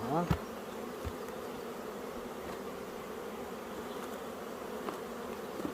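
Honeybees buzz steadily around beehive frames, a continuous dense hum at close range with a few brief knocks and shuffles as the frames are handled.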